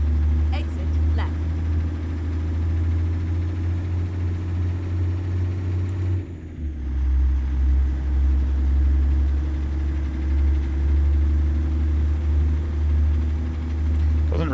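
A low, steady truck engine drone in American Truck Simulator hums throughout, briefly dipping and shifting pitch midway before resuming its heavy rumble.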